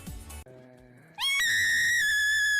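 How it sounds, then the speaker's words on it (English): An ear-splitting, high-pitched scream from a female VTuber streamer bursts out loud and sustained at close range after a brief stretch of other voiced sound. "Infamous for her ear-splitting scream."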